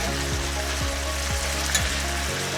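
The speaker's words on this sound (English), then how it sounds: "I'm gonna go ahead and throw in some mushrooms and start giving those cooking in there" Mushrooms frying in a pan give a steady, soft sizzle with a few faint scraping stirs, heard alone without talk.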